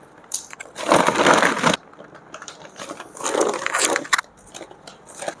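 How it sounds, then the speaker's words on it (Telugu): A parcel of eggs in village packaging is cut open, giving bursts of crinkling, crunching plastic and cardboard sounds in two main clusters with smaller rustles between, close to the microphone and without speech. "మనం ఇవన్నీ ఓపెన్ చేయలేము, సో కట్ చేసుకుంటాం."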